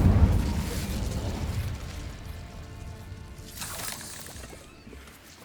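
An Incendio fire spell cast in the Hogwarts Legacy video game gives a loud, low whooshing burst up front, then a crackling, fiery tail that fades over several seconds with a brief flare near the end.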